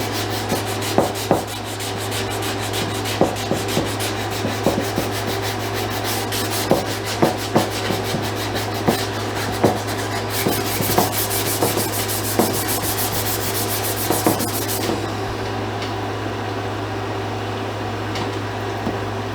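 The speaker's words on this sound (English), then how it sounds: "Anyway, you just continue to sand, and then we'll come back and raise the grain" Steady back-and-forth sandpaper strokes rubbing a wooden rifle stock during refinishing, close and continuous with a rhythmic scrape and a low electrical hum underneath, no speech.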